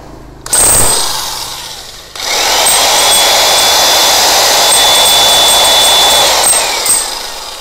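A rotary hammer fitted with a chisel bit chisels steadily with a loud, continuous grinding roar after a brief start-and-stop burst, running close and unbroken for several seconds.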